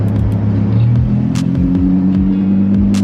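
A Lamborghini Huracan V10 with its exhaust in Corsa mode revs close by, a deep burbling idle swelling into rising and falling revs with sharp crackles, loud and steady throughout with no talking.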